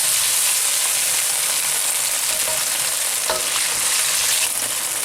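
Lamb frying in a hot pan, a loud continuous close sizzle with a few brief clatters of stirring, no voices.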